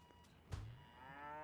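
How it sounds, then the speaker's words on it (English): In a video game, a cow gives a short low moo about midway through, quiet under a steady hum of game sounds. "Cow go moo."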